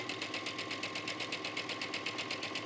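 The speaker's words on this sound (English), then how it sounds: "And I'm just going to stitch, allowing that fabric to feed." A sewing machine stitching the princess seams of a trench coat, running in a fast, even rhythm of needle strokes at close range and fairly quiet, with no talk over it.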